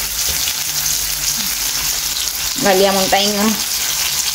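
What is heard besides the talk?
fish frying in a pan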